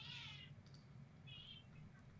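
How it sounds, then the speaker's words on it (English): An agitated cat meows several times, faint and a little distant, with bursts of high yowling over a low steady indoor hum and no speech. "Sorry, my cat is like freaking out here."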